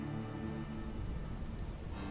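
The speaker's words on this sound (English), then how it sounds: "some light rain comes just at nightfall, which is miserable" Light rain falling at nightfall, a steady soft patter of drops on a surface, close and continuous with no voices.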